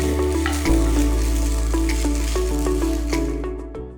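Milk bubbling and sizzling in a hot pan as it is cooked down into mawa, a loud, close, continuous frying hiss with occasional stirring scrapes.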